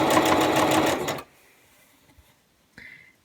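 Sewing machine runs a fast, steady stitching burst along a purple line on quilt half square triangles made from charm pack squares, then stops, leaving near silence with a brief faint clunk at the end.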